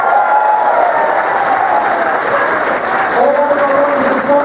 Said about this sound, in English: Round of applause for the sponsors,